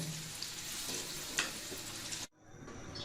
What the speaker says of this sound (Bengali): এভাবে করে আমি সবগুলো আলু ভেজে নেব।